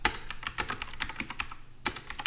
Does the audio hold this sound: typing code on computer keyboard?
yes